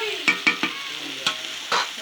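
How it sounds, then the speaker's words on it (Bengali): A spatula scrapes through food in a frying pan in a home kitchen: about five distinct stirring strokes at an uneven pace, with a soft sizzle in the background. "মা খুলে নাড়িয়ে নিচ্ছে।"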